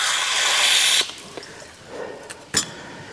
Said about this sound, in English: I just sprayed through there